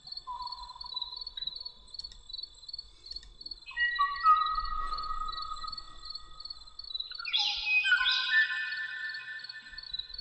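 The last recorded song of a Kauai O'o bird: sparse, clear whistled notes held and then shifting pitch, separated by pauses, over a faint background hum.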